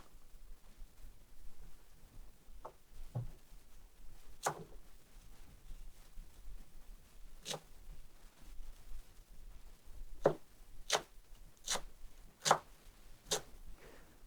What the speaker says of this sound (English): Now I'm going to chop some of this parsley.